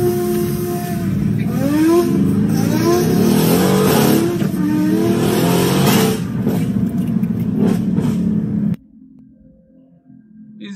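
A BMW car accelerates hard on a street, engine note climbing through rising revving sweeps with gear changes, loud and close, before cutting abruptly to a quieter hum near the end.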